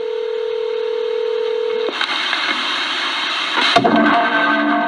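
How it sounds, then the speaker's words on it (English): Telephone keypad tones being dialed to reach a voicemail box, starting with a long steady tone and followed by a quick run of bright beeps, loud and close with no talking. "All right, so I just reached the voicemail box of Cecil, and that's okay."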